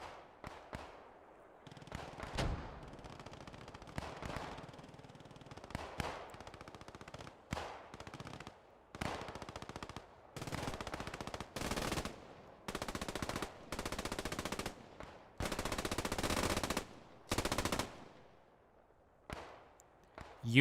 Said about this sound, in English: You can hear the machine guns fire, trying to keep the defenders' heads down.